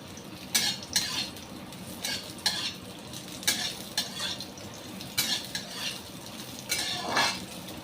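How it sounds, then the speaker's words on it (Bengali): Peeled moringa drumstick stalks sauté in hot oil in a pan, a soft steady sizzle broken by repeated scraping, clinking stirs of a metal utensil at irregular intervals, close up with no talking. "তেল গরম হয়ে গেছে। তেলের মধ্যে আমি দুটো সজনের ডাঁটা নিয়েছি, ছাল ছাড়িয়ে নিয়েছি। ডাঁটাটাকে একটু সাঁতলে নেব।"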